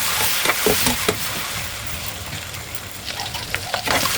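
Eggs frying in a pan for a traditional North Bengal alu ghati, a steady close sizzle with a few soft scraping stirs.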